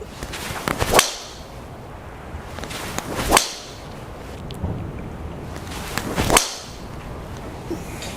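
Three sharp swishing strikes from a 14-degree TaylorMade M6 driver, 45.75 inches long, land about two to three seconds apart, each standing clearly above quiet outdoor background noise.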